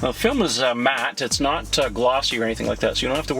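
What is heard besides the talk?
None of the usual background noises is heard.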